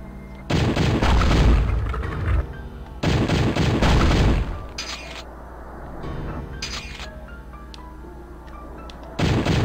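Loud, dense bursts of rapid gunfire from the Hellslave Saturn homebrew game, two long volleys and a short final one, separated by quieter stretches of game sound.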